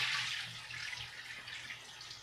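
Running water pours steadily into a new fish tank, a continuous broadband hiss and splash that stays close and fairly even with slight fluctuations, no voices.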